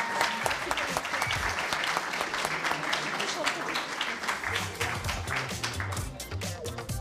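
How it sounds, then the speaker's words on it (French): Studio audience members at the close of a quiz show applaud themselves with lively, crisp clapping throughout, while voices and low murmuring come in underneath toward the end. "Allez, applaudissez-vous."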